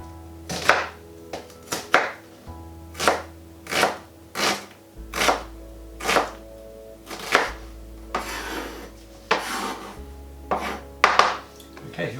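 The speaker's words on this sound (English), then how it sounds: "prepare this onion, and for the onion and garlic, both need to be very finely chopped" A knife chops an onion finely on a cutting board, with about a dozen crisp, evenly spaced strikes close by, while a low steady hum runs underneath.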